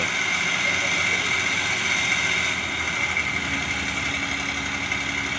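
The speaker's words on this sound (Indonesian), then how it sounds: "Ternyata tidak mudah ya, alat berat ini naik ke mobil." A heavy-equipment diesel engine runs at a steady, loud roar while the machine climbs onto a truck on ground made slick by drizzle. The tone is constant and droning with slight vibration, and no voices are heard.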